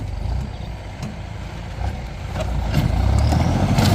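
A tractor pulling a rotary tiller as it works the corner of a field in slow gear, a steady low engine drone with rattling and clanking that swells louder toward the end, no talk.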